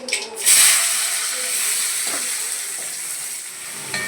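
Whole cinnamon sticks and cardamom pods sizzle in hot oil for a village-style veg kurma, a steady bright frying hiss that swells sharply after a brief quiet start, then holds evenly at close range with faint background sounds.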